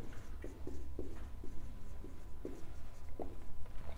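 Pen writing by hand on paper during a maths class, soft close scratchy strokes in short irregular bursts against low room noise, with no talking.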